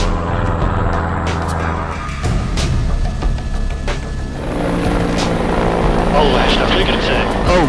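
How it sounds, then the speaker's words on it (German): A helicopter passes close to a small plane in flight near Lake Thun and Lake Brienz in Switzerland, its throbbing rotor beating over the loud, steady drone of the plane's engine heard from inside the cabin. "We had just a near miss with a helicopter"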